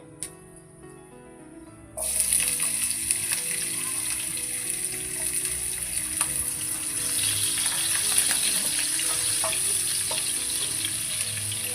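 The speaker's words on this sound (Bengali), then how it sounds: "ফোড়নটা হয়ে গেছে, এবার আমি পেঁয়াজ কুচি দিয়ে দেবো এর মধ্যে।" Chopped onions hit hot spiced oil in a village kitchen, setting off a sudden loud sizzle after a quiet moment that then holds steady with light stirring scrapes and occasional clinks.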